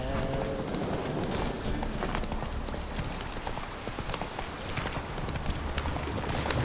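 Steady hoofbeats of the horse Roach galloping in The Witcher 3, a continuous rapid clip-clop under game ambience, with a faint hum from the rider.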